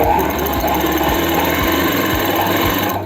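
A sewing machine stitching a folded seam on palazzo pants, running loud and close with a rapid, even mechanical chatter for about three seconds before stopping.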